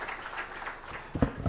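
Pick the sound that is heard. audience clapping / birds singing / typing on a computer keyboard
audience clapping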